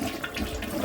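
A toilet flushing at close range during a home plumbing job on a toilet that had been flushing oddly and backing up; a short burst of rushing, gurgling water heard alone.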